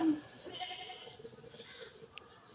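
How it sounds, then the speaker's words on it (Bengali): A goat gives a short bleat at the start, followed by faint background voices and indistinct rustling at low level. "ছাগল একটা"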